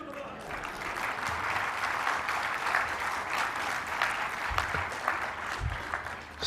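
Audience applause at a university convocation and Founder's Day ceremony, a sustained wash of clapping from a large crowd that holds steady for several seconds, with no speech over it.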